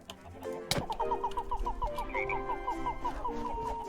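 Frigate bird call from the Minecraft ZAWA zoo mod, a rapid series of about a dozen clucking, rattling notes in a steady rhythm after a sharp knock, clear and fairly close with no talk.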